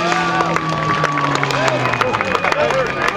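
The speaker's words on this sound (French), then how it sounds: "Et on peut l'applaudir, mesdames et messieurs." Spectators at a Toyota 4x4 mud rock pull clap and cheer for a driver, a crowd of applause under a loud announcer's voice.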